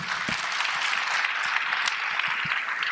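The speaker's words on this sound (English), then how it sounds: "A wonderful applause for all of you for what you did." An audience applauds at a community foundation panel event, a full, even roar of clapping sustained from start to finish, with scattered louder claps close by.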